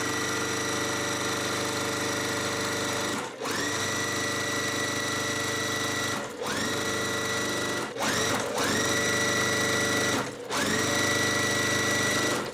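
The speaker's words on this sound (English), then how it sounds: "and I'm just going to sew through." A sewing machine stitches pieces of a quilt block in long continuous runs, close and steady, stopping briefly several times before starting again, with no talking.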